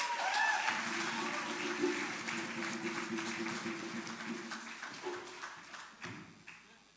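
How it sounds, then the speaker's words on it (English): Audience applause at a Malcolm X Day community event, a dense crackle of clapping that is loud at first and slowly thins and fades over several seconds, with some voices and scattered thumps mixed in. "Another round of applause"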